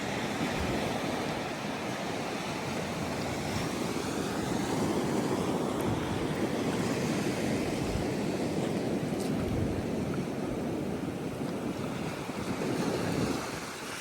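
Atlantic Ocean surf washes continuously against the shore at Hilton Head Island, a steady broad roar mixed with gusting wind buffeting the microphone, with no speech.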